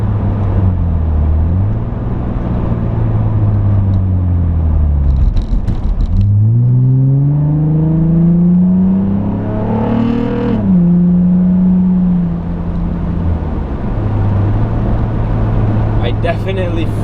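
A VQ35 engine fitted with a lightweight underdrive crankshaft pulley pulls hard in second gear over train tracks. Its drone climbs steadily in pitch through a long rev sweep, eases off, then settles back to a lower, steady tone.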